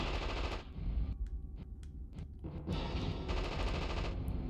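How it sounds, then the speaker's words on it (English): Rapid automatic gunfire in the video game Future Cop L.A.P.D., dense bursts of loud, fast shots that break briefly into a few separate cracks before the barrage resumes, with no talking. "Who's shooting at me there?"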